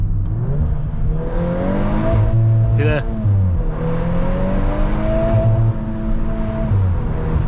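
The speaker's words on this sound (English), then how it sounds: "Don't worry, the car can handle a bit of rev limiter abuse." A VW Mk8 Golf R engine held in drift mode bounces off its rev limiter, droning high and stuttering in repeated cuts with a brief sharp blip mid-way, while someone talks over it.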